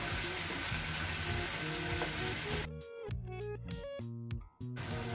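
Onion-coconut paste and tomato puree frying in mutton gravy, a steady sizzle at first, then cut into bursts alongside music with brief gaps, moderately loud throughout.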